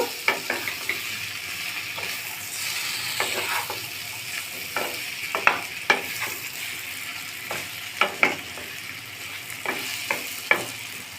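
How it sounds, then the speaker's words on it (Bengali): Rice, fried potato and pumpkin with spices being stirred in a frying pan, with a soft steady sizzle and repeated sharp scrapes and taps of the spoon against the pan at irregular intervals. No one speaks. "সব কিছু আবারও নেড়ে চেড়ে মিশিয়ে নিব।"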